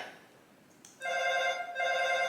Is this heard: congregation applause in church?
no